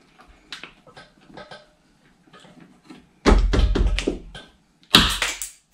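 Plastic door panel pins popping out of a Nissan NV200 driver door, first soft taps and light handling, then two loud sharp cracking bursts close up, each lasting about a second with rattling snaps.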